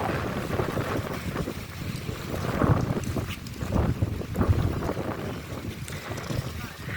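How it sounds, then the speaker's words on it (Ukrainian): Strong wind blasts straight into the microphone, a constant low roaring rumble with surging gusts and no clear voices. "Подивіться, що воно робиться, цей вітер капець."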